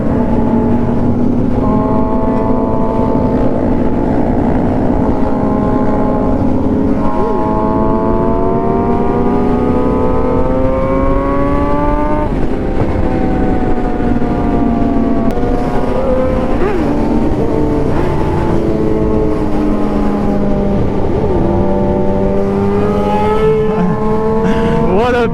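Kawasaki 636 sport motorcycle held in wheelies at about 70 mph, its engine droning loud and continuous with rising and falling revs throughout, close by and steady with no pause.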